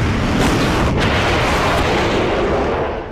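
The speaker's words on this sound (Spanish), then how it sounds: "Una fuerte explosión, un golpe muy, muy fuerte en todo el cuerpo" A loud explosion during the 1982 Falklands air war: a heavy, sustained roaring blast that fills the whole span at high level, fading slightly only at the very end, with no voices.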